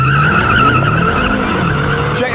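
A sports car, one of a Mercedes-Benz E63 AMG S, BMW M6 Gran Coupé or Jaguar XFR-S, launching hard off the line in a straight-line drag race, with loud sustained engine roar and tire squeal close by.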